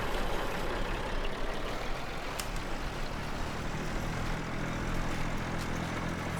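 Vintage two-wheel-drive tractor with diff lock engaged labours uphill, its engine a steady, loud, rough drone with little change in pitch throughout.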